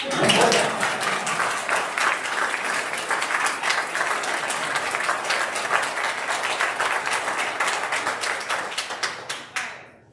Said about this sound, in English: Y'all can clap at that.